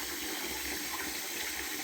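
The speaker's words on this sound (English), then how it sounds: "I'm gonna pour some more water in. It is draining. My sink does not want to hold water." Water pours steadily into a bathroom sink that will not hold water and keeps draining, a constant close rushing splash with no talk.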